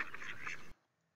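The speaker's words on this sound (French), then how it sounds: "Ce sont des canards." A short stretch of ducks quacking, faint and nasal, ending abruptly in near silence.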